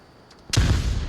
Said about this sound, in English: Flashbang goes out.